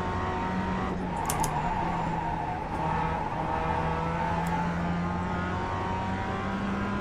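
A Mazda MX-5 race car engine in iRacing at Jefferson Circuit drones steadily at high revs, with pitch shifts on gear changes and brief tire squeals, close and continuous without talking.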